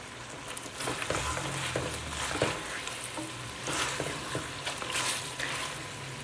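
Chicken frying in a pan on a medium flame for achar chicken, a steady close sizzle broken by repeated stirring and scraping strokes, no voices.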